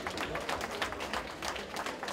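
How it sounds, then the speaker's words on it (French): Audience clapping at an evening awards ceremony in Guinea, steady dense applause, fairly faint and distant, with no talk over it. "S'il vous plaît, des applaudissements."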